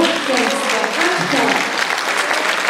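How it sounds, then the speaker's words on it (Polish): An audience claps loudly and steadily for singer Halina Jastrzębska-Andczak at an accordion orchestra concert, warm sustained applause with a voice speaking over it. "Wielkie, wielkie brawa pani Halina"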